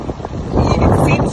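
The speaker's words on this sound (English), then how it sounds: "It seems windy because it is." Wind buffets the microphone outdoors in gusty, rumbling bursts that strengthen partway through, dominating the sound.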